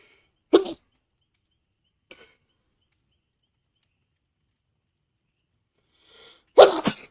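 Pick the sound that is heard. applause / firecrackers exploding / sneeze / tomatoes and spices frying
sneeze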